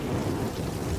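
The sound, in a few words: heavy rain with thunder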